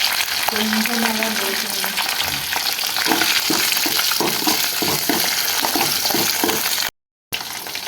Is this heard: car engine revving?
no